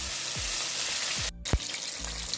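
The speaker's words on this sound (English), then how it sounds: "while these are frying and getting so golden brown and crispy" Hot oil sizzles and crackles steadily as fish fries for Jamaican escovitch, a close, continuous frying hiss with a few soft clunks and thumps underneath.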